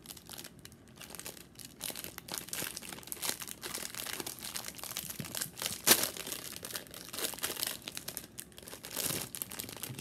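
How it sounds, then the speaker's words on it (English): Thin plastic wrapping around a mint chocolate chip ice cream sandwich crinkles and crackles close up, in irregular bursts with one sharp louder crunch midway, no voices. "Come in a little package like this. A little plastic packaging."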